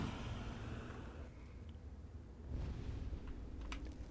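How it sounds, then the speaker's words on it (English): Rapid computer mouse clicks during a Skyrim gaming session sound as quick, light tapping in short bursts, close to the microphone over a low background hum. "I'm clicking my mouse like a madman."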